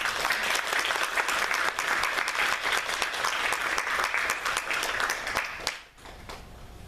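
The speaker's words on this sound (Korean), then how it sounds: "박수를 한번 드립니다" A church congregation at a Thanksgiving service applauds after a song, dense steady clapping that fades out near the end.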